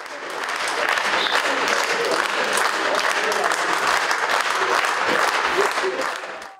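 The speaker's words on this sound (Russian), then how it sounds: "С любимой сцены ее провожали под громкие аплодисменты" Theatre hall audience gives loud, steady applause at a farewell ceremony for an actress on her beloved stage, a dense unbroken wash of clapping for several seconds that fades at the end.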